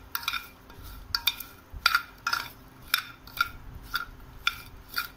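A spoon stirs lemons and green chillies coated in mustard oil, producing a series of light metallic clinks and scrapes against the bowl at an irregular pace, fairly quiet and close with no voices.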